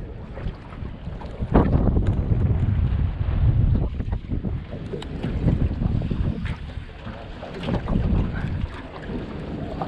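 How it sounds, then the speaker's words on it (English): Strong gusty wind buffets a small fishing boat on the Brisbane River, a loud, continuous roar of wind noise on the microphone with surging gusts and faint water wash, with no talking. "It's that windy, the bloody bait fish are getting blown out of the water."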